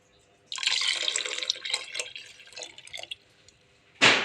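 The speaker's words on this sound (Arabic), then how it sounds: "بس برضو هحط معلقتين كبار نشا عليهم مج ميه كده محترم" A mug of water is poured into a pot of cooking fava beans with starch in it, a splashing, trickling pour lasting about three seconds that tapers into drips, followed by a short sharp clatter.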